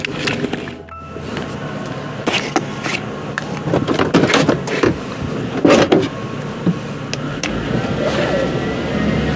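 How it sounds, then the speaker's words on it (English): A 2004 Chevy Avalanche pickup with a 5.3 V8 on a road test, with a steady engine and road drone beneath a stream of clicks, knocks and rattles from the cab and suspension. "This vehicle's running really well. Let's just go on the road test."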